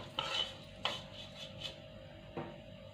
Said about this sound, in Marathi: तर अशा पद्धतीने मी छान असं खोबरं आता भाजून घेणार आहे